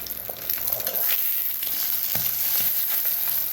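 An egg frying in a pan, a close, steady crackling sizzle with small popping bursts and faint stirring.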